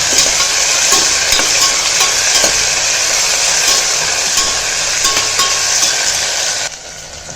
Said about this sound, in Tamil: இந்த மாதிரி ஸ்லைஸ் ஸ்லைஸாக கட் பண்ணி சேர்த்துருக்கேன் ரெண்டு வெங்காயம் நல்லா வதங்கட்டும்